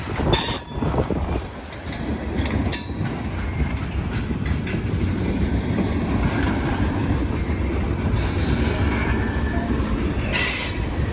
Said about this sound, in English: That's the first revenue run for that black locomotive.